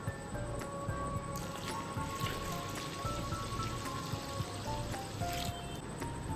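Water poured into soaked sorghum flour gives a steady wet patter of drips and soft squishing that runs throughout, close by, with no talking.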